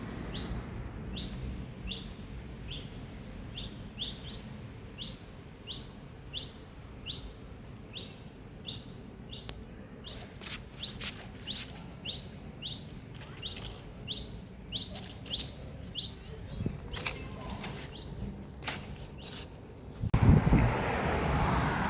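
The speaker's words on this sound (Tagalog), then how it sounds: "Maliit na uwak. Ayan o, uwak." A small crow calls in a repeated series of short, sharp caws at a steady rhythm, moderately near, over light wind noise, with a louder rustle near the end.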